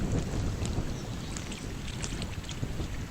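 Wind tosses the trees around a campsite on a Boundary Waters canoe trip, a continuous full rushing roar with faint gusty swells and no voices.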